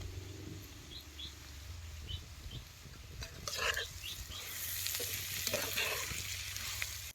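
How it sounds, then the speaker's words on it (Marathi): Onion sizzling steadily in a pan for a village-style chicken curry as ginger and garlic go in, a continuous frying hiss with a louder burst of stirring and spattering midway; faint bird chirps sound in the background. "आता कांदा चांगला भाजलाय, आता याच्यातले आलं लसूण यात घालायचं."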